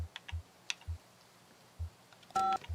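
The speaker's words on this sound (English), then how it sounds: "Why is that plastic box making phone sounds?" Phone-style touch-tone dialing coming from a plastic box in the video game Kentucky Route Zero: a handful of short, quiet beeps at irregular intervals, closing on a longer, louder dual tone.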